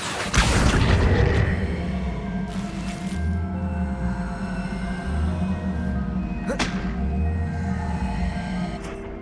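Spells cast in Hogwarts Legacy, a string of booming whooshes and thuds over a low rumbling game score, with a couple of sharp cracks standing out.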